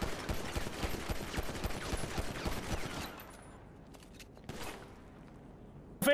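Dense rapid gunfire crackles nonstop for about three seconds, then drops to sparse isolated shots and faint noise.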